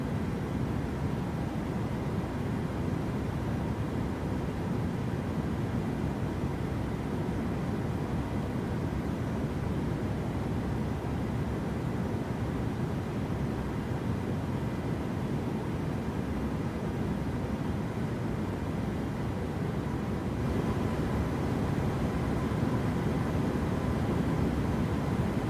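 A PMDG 737-800 takes off in Microsoft Flight Simulator. Steady, loud engine roar runs unbroken for the whole stretch, with no voices.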